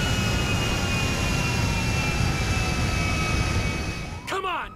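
An overheating aircraft engine in the game GTA5 gives a loud, steady jet-like roar with high whining tones that runs almost throughout and then cuts off abruptly near the end into a brief mechanical sweep.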